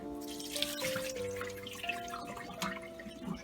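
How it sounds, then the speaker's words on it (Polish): Cooked poppy seed filling for a Christmas poppy seed cake is poured through a small sieve onto a cloth to strain. A continuous close trickle and drip of liquid plays over a faint steady tonal hum, without speech. "Teraz trzeba go odcedzić. Daję siteczką na tą ściereczkę i przelewamy go."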